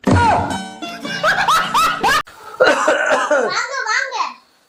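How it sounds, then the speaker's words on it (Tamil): Someone coughs loudly and repeatedly in harsh, voiced bursts, close to the listener, before trailing off into silence. "ஒரே இருமலா இருக்கு"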